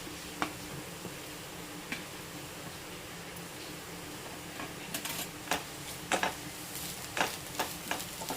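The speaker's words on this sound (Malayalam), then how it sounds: "ക്യാരറ്റും പച്ചമുളകും ഒക്കെ ഇട്ട് കൊടുത്തിട്ട് നല്ലതുപോലെ ഒന്ന് ഇളക്കി കൊടുത്തു" Grated carrot and green chilli stirred into onions frying in a pan: a faint, steady hiss of sizzling with soft scattered clicks and scrapes of the spoon, growing busier toward the end.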